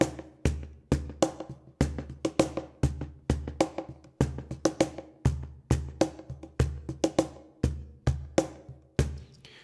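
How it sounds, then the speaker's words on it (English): Cajon struck in a steady groove with a Roland Space Echo delay plug-in, deep booming bass hits alternating with sharper slaps, each trailed by soft echoing repeats, clear and close with no talking. "adding some of this delay underneath the Cajon hits."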